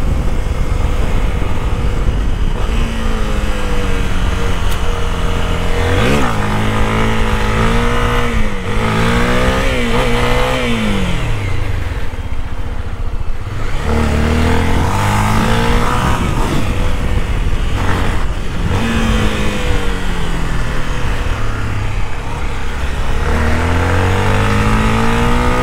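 A Honda XRE 300 motorcycle engine runs loudly and steadily throughout, its pitch repeatedly climbing and falling as it revs through gears while riding.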